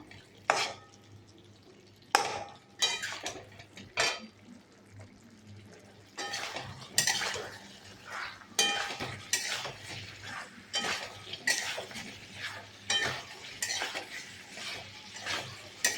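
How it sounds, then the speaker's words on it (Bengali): Elephant foot yam and fish curry stirred in a pot over low heat, with a spoon scraping and clinking against the metal in irregular close strokes, steady and moderately loud. "একটু নাড়াচাড়া করে নেব।"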